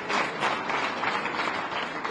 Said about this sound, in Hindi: एक बार माता बहनों के लिए ताली बजाइए